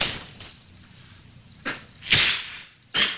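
A single short sneeze at home on a rainy day, near and sharp, standing out from quiet room sound and a few other brief household noises.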